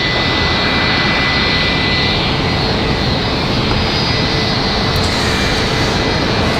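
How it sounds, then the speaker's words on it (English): Boeing 757 jet taxiing at Raleigh-Durham International Airport on a rainy evening, a loud, steady broadband engine roar that holds close and constant throughout. "So the 757 make its way over here. We'll get ready for that departure."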